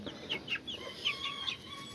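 A pearl grey bearded Grubbe rooster clucks in a quick run of short, soft calls, close by and alone over quiet farmyard background.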